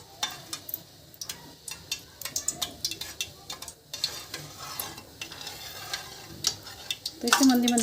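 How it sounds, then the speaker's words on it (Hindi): Rasgulla dough balls fry in oil over a low gas flame, giving a soft, steady sizzle broken by frequent ticking taps and stirring clicks from a utensil, close up and fairly quiet. "तो इसे मंदी मंदी गैस पे हम इसी तरह से सेक लेंगे।"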